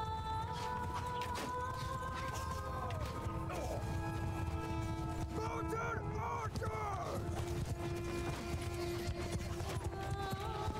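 Cavalry horses galloping in Mount & Blade II: Bannerlord, a dense continuous rumble of hooves with clattering impacts and occasional whinnies, battle noise and sustained musical tones layered over it, and someone talking throughout.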